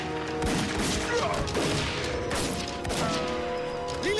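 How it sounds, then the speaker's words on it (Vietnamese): Gunfire crackles through a wartime drama battle scene, several sharp shots and bursts spread irregularly across the moment, with a voice shouting faintly in the background. "Tiếp tục bắn cho tôi."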